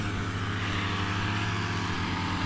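A grass cutter engine runs steadily and close by, a continuous droning hum with a strong low buzz and no pauses, heard alone without talk.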